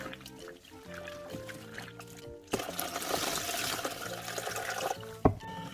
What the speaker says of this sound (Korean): 어느 정도 깨끗한 물이 나오도록 한 두세 번 정도 헹궈줍니다.